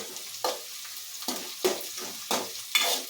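Puffed rice and egg usli frying and being stirred in a pan, a steady soft sizzle broken by about six scraping stirs at irregular intervals, close by and moderately loud, with no talking.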